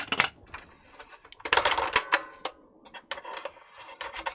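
A faulty Hitachi TRK-510ER radio cassette mechanism running in play with the tape not spinning, giving close, irregular mechanical clatter and ticking in uneven bursts with short gaps, no talking.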